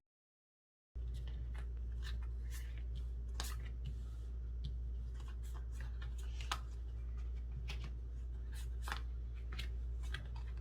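Tarot cards are spread across a table in a series of light, crisp flicks and soft slides, close and fairly quiet over a constant low electrical hum.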